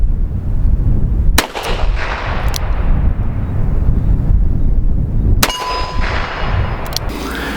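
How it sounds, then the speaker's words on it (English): Revolver shots fired outdoors, two loud sharp cracks spaced a few seconds apart, each followed by a metallic ring of a struck steel target and a fading echo, with a low rumbling background between shots. "But revolvers are fun to shoot"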